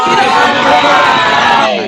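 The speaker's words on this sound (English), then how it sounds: "we're going to cheer Decarbonize" A group on a video call cheering together in one short burst, loud overlapping shouts and whoops from many voices mixed through call audio.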